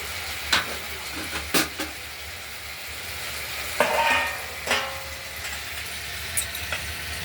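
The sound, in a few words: spice paste frying in oil for rohu fish curry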